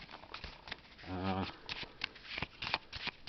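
A quick riffle of playing cards, a short whirring burst near the middle, surrounded by soft handling taps and faint background noise.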